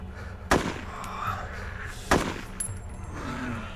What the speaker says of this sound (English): AKM brings all the zombies to the yard.